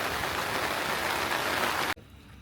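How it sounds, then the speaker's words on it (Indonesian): Steady rain falls outdoors on a foggy night at a hillside campsite, a dense continuous hiss that cuts off abruptly near the end, leaving a faint quiet background. "Enak banget ya kalau misalkan kabut-kabut hujan kayak gini tuh"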